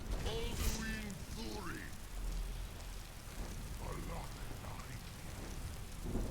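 Steady rain hisses in the background in the game Skyrim, with occasional low rumbles and some game-like effects layered over it.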